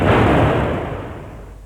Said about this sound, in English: When the ringmaster gets to 1 and fires the cannon